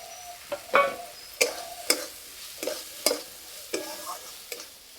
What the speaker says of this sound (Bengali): মশলার সঙ্গে মটরশুঁটি ভালো করে কষিয়ে নেব